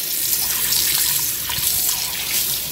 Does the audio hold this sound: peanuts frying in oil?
no